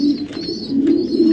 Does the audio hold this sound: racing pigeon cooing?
yes